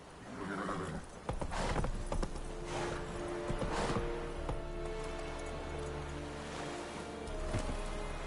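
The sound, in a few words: horse galloping, from video game The Witcher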